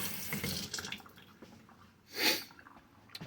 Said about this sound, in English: Do a little rinsey rinse.